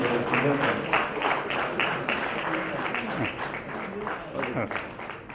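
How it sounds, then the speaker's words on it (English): An audience at a college science awards ceremony applauds prize winners, with steady dense clapping throughout and voices talking over it. "Big round of applause for them."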